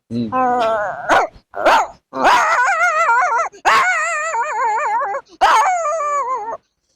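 A man vocally mimics village dogs fighting: close, loud runs of snarling yelps and wavering whines in four or five sustained bursts separated by short gaps.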